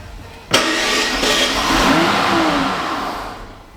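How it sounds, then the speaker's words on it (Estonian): A Mercedes-Benz CL 600 V12 cranks and fires up with a sharp catch, then settles into a loud, smooth, steady run close by that slightly rises and then eases off. "Aga mootor käib ringi."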